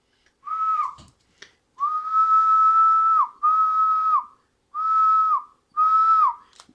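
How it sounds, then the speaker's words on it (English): Several sustained whistled notes sung into a ham radio transmitter's microphone, each held steadily before dipping at the end, separated by short pauses with a brief click between; clear and close with no talking. "So if I give a little bit of a whistle."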